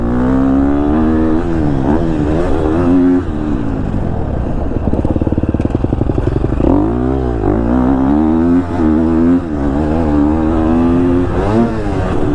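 A 2022 KTM 250 SXF motocross bike engine roars close and loud throughout, rising and falling through revs as the rider works the throttle, with brief dips between steady high-pitched pulls.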